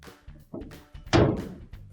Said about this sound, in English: Now we can close our dryer door.